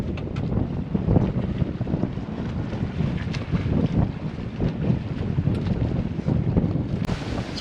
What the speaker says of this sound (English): we're sailing back down from Carriacou, and we're having to go outside the volcanic exclusion zone